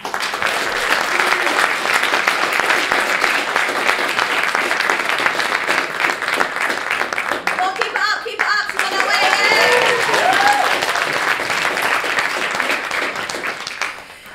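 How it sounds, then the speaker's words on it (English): A large audience breaks into loud, sustained applause for an incoming speaker at a talk, dense clapping that fills the whole stretch, swelling slightly midway before tapering at the end. "Please welcome this real-life heroine with a loud applause."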